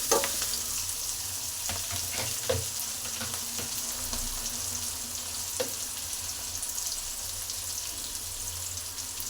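Onions and curry leaves sizzle in a hot pan for egg rice, a steady close frying hiss broken by a few scraping stirs.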